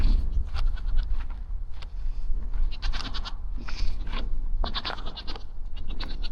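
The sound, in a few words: goats bleating in the distance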